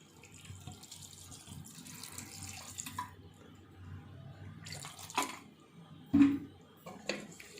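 About one glass of water is poured into a pot of spices and tomatoes while mutton curry is being cooked, giving a soft, low liquid splashing and pouring with a few louder splashes near the end.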